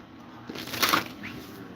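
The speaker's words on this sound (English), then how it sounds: "So let me get one more shuffle." A deck of tarot cards gets a quick shuffle, a brief papery riffle and flutter that swells in the middle and fades, close and fairly soft.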